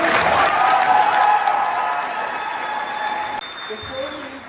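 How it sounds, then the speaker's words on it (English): An audience applauds the speakers at a Kansas Equality Day event, the clapping crowd dense and loud at first, then gradually thinning and fading away. "Please give a round of applause for all the amazing speakers again."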